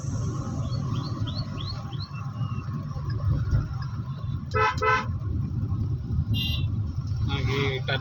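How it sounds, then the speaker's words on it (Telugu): Short car horn toots sound in quick clusters over steady engine and road noise while driving up a hill road, with birds chirping faintly nearby. "హార్న్ కొట్టుకుంటూ"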